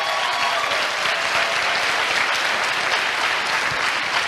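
Audience at Baylor University applauding student volunteers, dense and even clapping that holds at full strength from start to finish with no break or voice over it.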